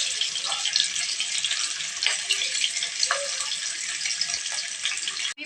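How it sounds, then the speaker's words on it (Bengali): Rohu fish pieces frying in oil in a wok, a steady broadband hiss and crackle of sizzling with occasional louder spits and pops, close and continuous with no talk. "একটা করে মাছগুলো তেলে দিয়ে দেব। মাছগুলো ভালোভাবে ভেজে নিতে হবে।"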